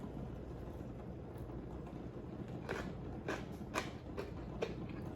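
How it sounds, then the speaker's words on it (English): Several crisp crunches of biting into a crispy vegan buffalo cauliflower wing, close and fairly quiet, a handful of sharp bites spaced over a few seconds against a faint background hiss. "Hear that crunch?"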